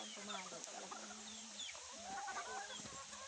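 Red junglefowl (labuyo) clucking in a backyard, a series of short clucks and calls repeating across the clip over rustling background noise and chatter.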